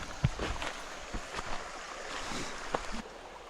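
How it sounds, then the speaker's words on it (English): Steady rushing creek water with broadband wash, a few splashy knocks and sloshes rising above the flow, close by and continuous. "Water's flowing from that side."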